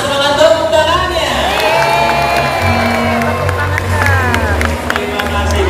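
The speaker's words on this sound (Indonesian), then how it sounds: "saya mau dengar mana semangat tepuk tangannya" A crowd at a dolphin show in Taman Safari Indonesia applauds and cheers loudly. Whoops and shouting voices rise over continuous clapping, with a hubbub of people throughout.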